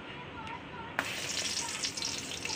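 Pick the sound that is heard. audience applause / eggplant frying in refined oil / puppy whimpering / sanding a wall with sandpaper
eggplant frying in refined oil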